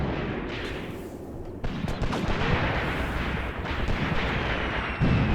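Artillery barrage in a WW2 North African battle video game, with dense rumbling blasts and cracking shots rolling continuously, some louder booms standing out from the steady roar.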